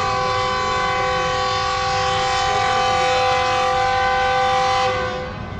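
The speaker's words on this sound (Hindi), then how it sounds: "राइविंग से डिपार्चर करने के लिए हॉर्न हो चुका है" Shalimar Express train horn sounding at departure from Raiwind Junction, a loud sustained tonal blast with multiple harmonics holding for about five seconds before trailing off over station rumble.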